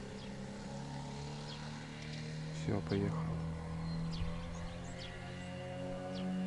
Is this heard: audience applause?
no